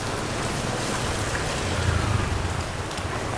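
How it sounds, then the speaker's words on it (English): Steady rain pours down over a market in Vietnam in October, a dense, even hiss of drops hitting surfaces, loud and continuous with no voices. "It started rain again"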